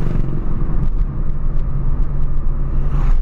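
A factory Ford Fiesta Turbo pulls hard under acceleration, a loud close low engine drone and road rumble holding steady and swelling slightly toward the end.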